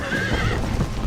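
A horse in the video game Red Dead Redemption gives a short neigh over quick hoof clops, close and loud in a brief burst.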